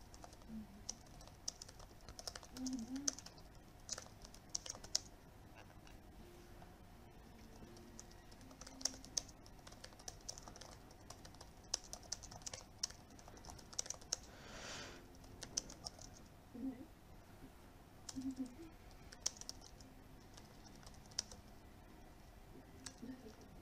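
Quiet, scattered clicking of keys as someone types in a Google Doc on a computer keyboard, with irregular bursts of keystrokes and short pauses, heard alone at low level.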